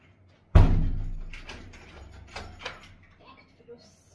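An indoor door is shut with one loud, close thud that fades over a second or two, followed by faint scattered sounds and a brief voice.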